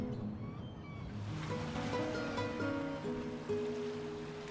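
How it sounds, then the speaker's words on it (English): Ocean waves crash and wash onto the Irish shore in a steady broadband surf roar, with faint tonal music playing softly underneath. "the only sounds you'll hear are the crash of the waves and the call of seabirds overhead"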